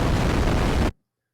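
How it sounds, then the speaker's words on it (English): Red noise from a Brainworx Knifonium synth plugin plays as a dense, dark rushing hiss for just under a second, then stops dead into silence. "Red noise, dark."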